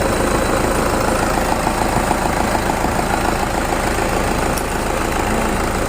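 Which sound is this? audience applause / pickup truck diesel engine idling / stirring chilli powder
pickup truck diesel engine idling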